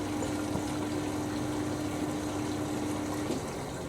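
Siemens WH54080 washing machine filling with hot water, a steady rushing flow of water through the inlet with a constant hum underneath, close and continuous throughout.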